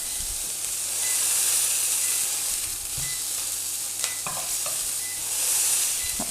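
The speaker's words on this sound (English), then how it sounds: "my tater tots, you can hear." Tater tots sizzle and hiss steadily in a hot pan, with a few scrapes and clinks of a spatula stirring near the end.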